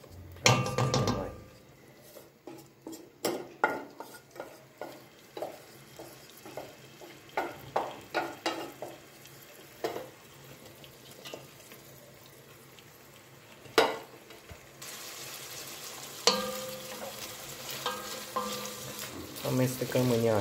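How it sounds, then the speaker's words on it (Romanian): Chopped onion frying in oil in a pan for garlic ghebe mushrooms, stirred with a wooden spoon: repeated scraping stirs and clacks over a steady soft sizzle, with the frying growing louder and denser near the end, no talking. "Amestecăm cu o lingură de lemn. Și lăsăm să călească așa ușor."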